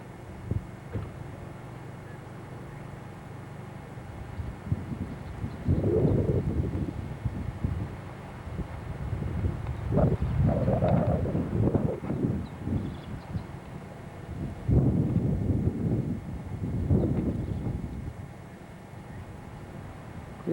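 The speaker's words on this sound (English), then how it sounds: "It's real windy up here today" Strong wind buffets the microphone on top of a hill in low, rumbling gusts that rise and fall, loudest in bursts through the middle and end.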